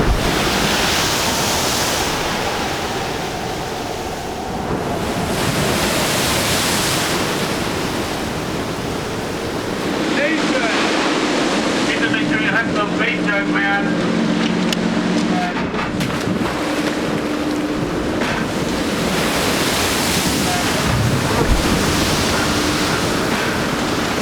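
Storm winds of about 80 miles an hour roar at sea, with 38-foot waves crashing and surging in a dense, unbroken wash of noise that swells and recedes, loud and close.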